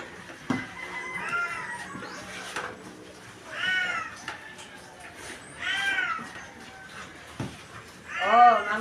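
Several farm cats begging for food, meowing repeatedly in short plaintive calls, some close and loud, amid other faint barnyard sounds and a person talking.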